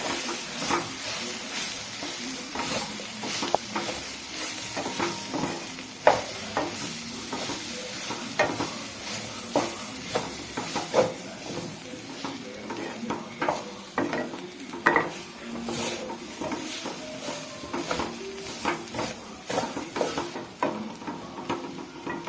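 Bitter gourd slices with chili powder and coriander powder being stirred in a hot pan, a continuous sizzle and hiss broken by frequent quick scraping clatters of a spoon against the pan, close and steady throughout.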